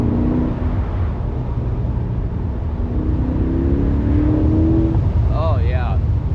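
A 2024 Chevrolet Corvette C8 1LT accelerates hard on a rough Los Angeles road, its engine a loud, steady drone with rising tones under constant road and wind roar throughout, close to the cabin, with a brief voice near the end.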